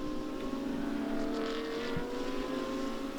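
Audi R8 LMS race cars roar down the back straight at Sepang International Circuit in Malaysia, a steady, sustained engine drone with a slight swell midway and no one talking.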